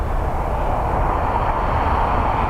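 Steady broadband roar of a Ryanair Boeing 737-800 with retrofitted Scimitar winglets on the ground at Dublin Airport, its engines running continuously at fairly close range with no talk over them.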